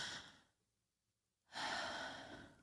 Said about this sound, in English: we're going to take our deep breaths